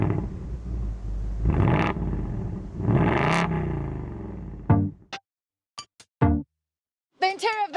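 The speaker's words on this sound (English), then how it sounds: "your quad pipes that release the most amazing and thrilling sound" A 2025 Ford Mustang Dark Horse revs through its quad exhaust pipes in two loud, rising surges, followed by a few sharp metallic clicks and a short burst of ticking.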